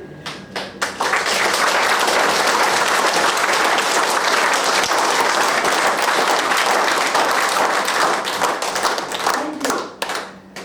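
An audience at an ITBP burnout workshop bursts into sustained applause: dense, loud clapping from many hands that swells quickly, holds steady for several seconds, then thins out at the end.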